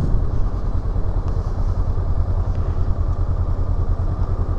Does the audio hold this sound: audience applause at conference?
no